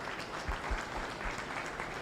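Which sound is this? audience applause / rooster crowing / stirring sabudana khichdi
audience applause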